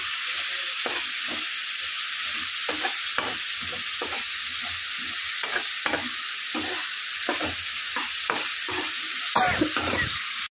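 Capsicum and other vegetables sizzle steadily in a hot pan, with repeated scraping stirs of a spatula cutting through the continuous frying hiss, close and fairly loud with no talking.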